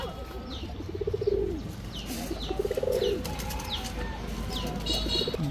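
Several pigeons, including white Sirazi pigeons, coo in soft repeated phrases, close by, with faint chirps and a little background murmur.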